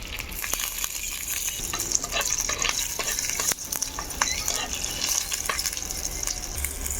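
Black mustard seeds, curry leaves and green chillies sizzle in hot oil for a dhokla tempering: a steady, close frying hiss dotted with sharp pops and crackles, with occasional stirring and no talk.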